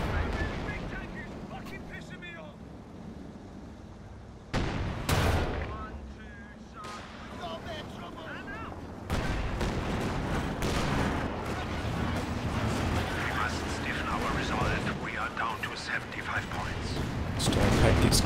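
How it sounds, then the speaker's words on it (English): Rocket artillery fires in a Company of Heroes 2 battle, loud broadband blasts and rumbling barrages rolling on for several seconds, with voices talking over the din. "that rocket artillery doing the damage"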